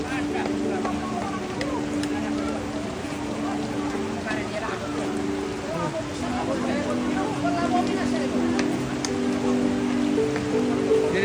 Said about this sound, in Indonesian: Kita dilanda hujan ini.